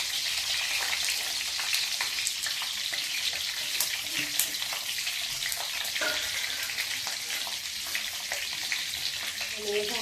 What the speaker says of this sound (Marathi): आता काय फक्त फ्राय करून घेईन छान असं. ते तेल टाकलंय ते कढईमध्ये